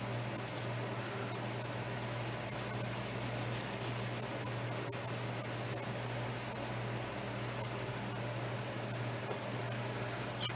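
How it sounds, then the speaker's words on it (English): A scrubby pad is rubbed back and forth across a surface, producing a steady, continuous rasping scour under a low constant hum, close by and without talking. "Scrub some more of that off."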